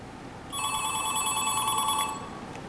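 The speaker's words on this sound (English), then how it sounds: "So I'm going to dial 911 now." A telephone rings once in a short burst after 911 is dialed on a call simulator, a clear electronic bell tone standing out over a quiet background.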